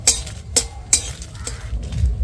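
Dried red chillies and whole spices are stirred in a hot pan for a chalta pickle, with a spoon scraping in a few evenly spaced strokes over a low, steady sizzle, close and clear.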